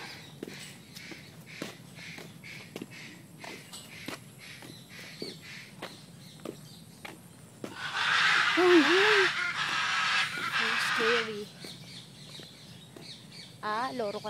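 A parrot at an animal park lets out loud, harsh squawking calls in a burst midway, after quieter ambient chatter and distant bird sounds, with people talking nearby.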